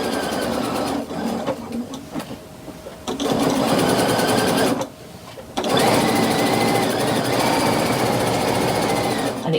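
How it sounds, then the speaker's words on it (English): A sewing machine runs top stitching at a long stitch length, whirring steadily and loud in three runs separated by short pauses, with no talking. "I'm going to turn my stitch length up because I think it looks neater when top stitching to have quite a big stitch length"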